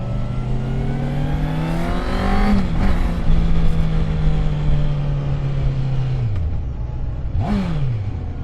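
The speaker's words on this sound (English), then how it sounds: "It has a standard exhaust," A QJMOTOR SRK800RR motorcycle engine with its standard exhaust revs up and holds a steady pitch for several seconds, then drops and blips again, loud and close with no voices.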